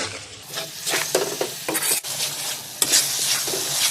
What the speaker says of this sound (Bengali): সব মশলা আমি এতে দিয়ে দিলাম। দিয়ে মশলা ভালো করে আমি কষিয়ে নেব।